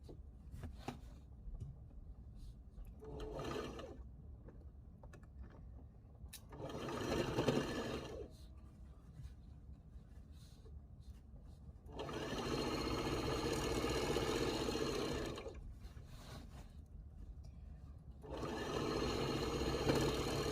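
A sewing machine stitches old fabric items in repeated runs, with bursts of steady whirring separated by quieter pauses over a constant low background hum.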